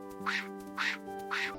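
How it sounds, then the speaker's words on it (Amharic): A duck quacks three times in an even rhythm, each call a short, nasal, raspy honk. The calls are fairly faint and have no talk over them. "ዳክዬ፣ ዳክ። ዳክዬ፣ ዳክ።"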